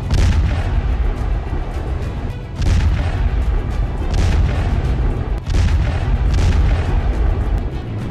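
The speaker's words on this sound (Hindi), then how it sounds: "यूक्रेन की सेना रूसी टैंक पर आरपीजी से हमला कर रही है।" Heavy, continuous booming blasts from an RPG attack on a Russian tank in Ukraine, loud rumbling explosions rolling one into another with several sharp surges, filling the whole clip with no speech.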